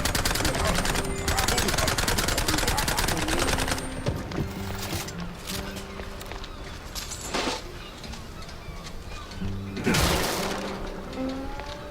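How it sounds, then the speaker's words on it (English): Shotgun blasts in the video game Mouse: P.I. For Hire, a dense run of sharp, loud shots over busy game music and effects, with a few heavier isolated bangs later on. "Shotgun."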